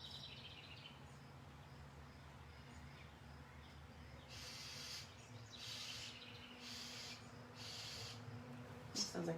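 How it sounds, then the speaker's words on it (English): Harsh, agitated bird calls come in several rough bursts from some distance outdoors over a steady low hum. "Sounds like an upset bird out there."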